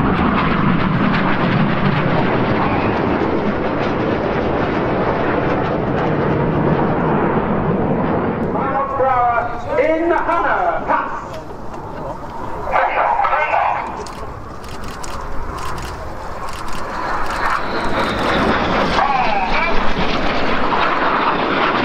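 BAE Hawk jets of the Red Arrows fly a display at RIAT 2024 with a loud sustained jet roar that swells and fades as they pass, and a commentator talks over it.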